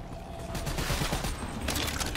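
Sustained LMG fire in Black Ops 3 custom Zombies, a dense steady rattle of rapid shots throughout, loud and close, no voices.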